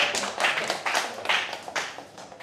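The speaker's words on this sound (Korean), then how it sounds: "우리 축하의 박수 한번 부탁드리겠습니다" A church congregation at a Sunday worship service applauds two pastors who won bicycles in a prize draw, a short run of uneven clapping that rises and falls in waves.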